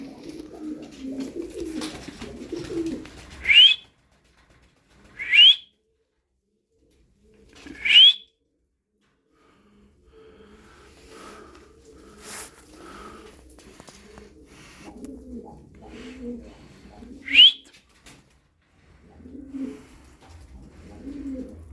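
Doves coo softly and repeatedly in low murmuring phrases, broken by a few high, sharp whistling calls, close by and with no talking.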